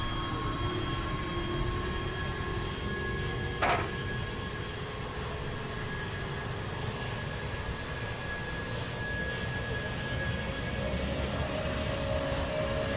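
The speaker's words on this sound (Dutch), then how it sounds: "En ik hoorde hier nog ergens een trein." A train in Train Simulator 2020 passes near Schiphol station on the Dutch high-speed line, a steady broadband rumble with rail hum and faint tonal whines, continuous for the whole stretch without talk.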